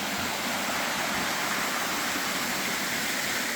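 Shallow creek water flows steadily over rocks on a hike toward Ladderbucket Falls, making a continuous broadband rushing hiss that stays close and even throughout, with no talking.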